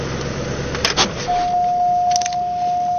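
A Cadillac DeVille being shut off: close keys jangle against the ignition with a couple of metallic rattles, then a steady electronic warning chime tone holds as the car sits quietly.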